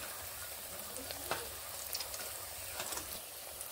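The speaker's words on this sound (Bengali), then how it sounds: "দুই দিকেই বেশ ভালোভাবে আমি এগুলোকে এইভাবে ভেজে নিচ্ছি" Pieces of banana flower fry in a pan of oil, browning on both sides, with a soft, continuous sizzle broken by a few light scrapes and crackles. No voices are heard.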